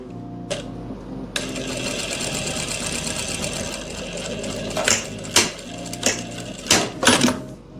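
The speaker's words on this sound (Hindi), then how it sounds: "तो यहाँ से आप सिलाई लगा दोगे।" A sewing machine runs a steady, continuous stitch along the back-panel shoulder strip of a round-flared kurti, with a few sharper ticks and knocks toward the end.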